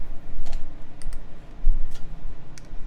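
Key presses on a custom-built keyboard being tested, a handful of sharp, close clicks in an irregular rhythm over a low background hum.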